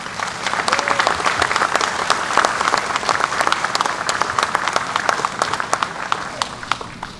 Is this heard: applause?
yes